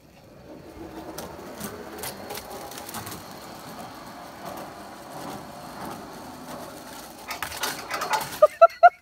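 A homemade backyard roller coaster cart makes a fast test run on its track at night, rolling as a faint, uneven rumble that grows louder and ends in a few sharp, close clacks.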